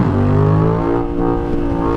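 A motorcycle engine revs hard while the rider pops a wheelie, with a loud, close, rising whine that dips briefly and then surges again.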